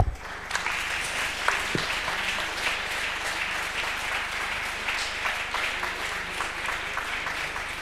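A hall audience at a French sustainable-housing awards ceremony claps continuously, a fairly soft, even patter of many hands with a few sharper nearby claps standing out, no speech on top.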